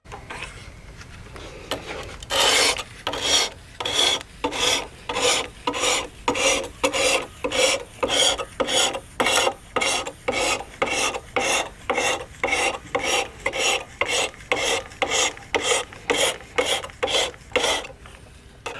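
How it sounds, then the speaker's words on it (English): A blade is drawn repeatedly across a stone on a sliding-guide knife sharpener, giving about thirty steady, close, loud rasping strokes in an even back-and-forth rhythm, with no talking. "I'm going to get the rest of these sharpened up"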